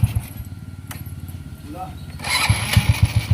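A freshly overhauled Honda Wave 100 motorcycle with a carburetor being tuned starts on one click, a short cranking burst giving way to a steady idle, with someone talking nearby.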